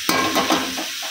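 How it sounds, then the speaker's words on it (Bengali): Greens sizzle and crackle in a hot pan, with a few louder stirring scrapes near the start, then a steady frying hiss. "শাক ভাজা হচ্ছে"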